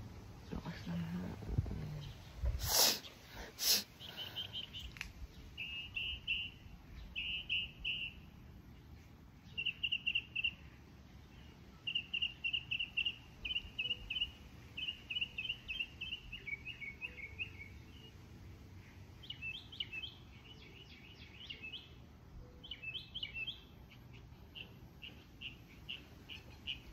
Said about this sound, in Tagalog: Kaya yung mga ibon liliparan kasi nabubulabog sila.